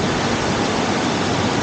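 A swollen, muddy yellow river in flood rushes past, a dense unbroken roar of churning water that stays loud and even throughout, with no voices.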